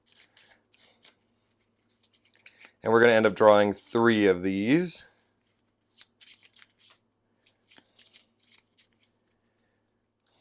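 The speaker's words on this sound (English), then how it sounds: "We can shuffle these up." Light papery shuffling and riffling of contract cards for the board game Otys clicks and flutters on and off before and after a short stretch of talking.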